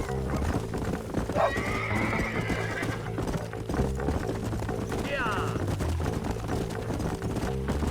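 Horse whinnies loudly twice in Red Dead Redemption gameplay, set over a busy game soundscape of hooves and ambient effects, with a brief spoken word.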